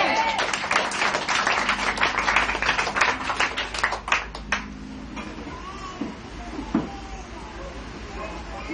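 A church congregation claps together, a dense and rapid burst of applause for about four seconds that then breaks off into scattered claps. A voice speaks afterward.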